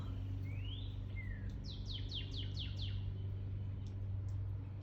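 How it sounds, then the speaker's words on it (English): A bird gives a couple of rising whistles, then a quick run of about six descending chirps, clear against a steady low hum. "I hear birds outside."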